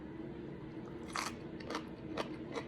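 Crisp bites into crunchy fresh seaweed from the sea, four short close crunches spaced about half a second apart over a quiet background.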